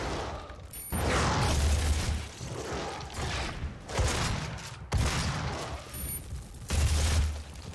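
Shotgun blasts in Doom (2016), a handful of heavy booming shots spaced a second or two apart, each followed by mechanical reload clanks amid game sound effects.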